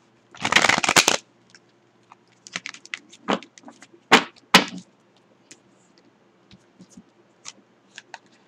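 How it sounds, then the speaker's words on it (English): Tarot cards being shuffled: a loud riffle burst at the start, then a few sharper snaps and soft scattered taps and slides, close by with no talking. "We're gonna shuffle these cards."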